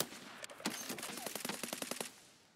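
Tracer rounds fired in a shooter video game, a rattling automatic burst of distinct close shots that quickens into a rhythmic string of sharp cracks before cutting off.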